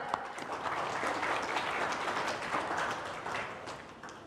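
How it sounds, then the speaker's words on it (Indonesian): Audience applause fills a religious talk by a young preacher from a modern Islamic boarding school, a steady dense wash of clapping from a crowd that runs throughout without pause. "tepuk tangan semuanya."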